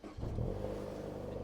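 A used car or truck engine cranks and fires up, settling into a steady, close idle rumble after a brief start.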